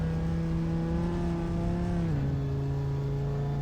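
An Audi R8 GT4 race car engine drones at Silverstone in the Assetto Corsa racing game, a loud, steady, buzzing engine note that drops in pitch partway through, then holds at the lower tone.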